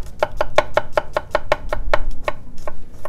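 Garlic being finely chopped with a kitchen knife on a board: a steady run of about a dozen crisp, evenly spaced knife strikes, close and clear, slowing into a few scattered cuts at the end.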